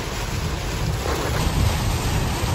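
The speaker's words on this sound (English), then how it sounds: "Did they hear that thunder?" Thunder rumbles low and heavy through steady rain while a car drives through a storm, a continuous dense wash of rainfall with a deep roll of thunder swelling near the middle.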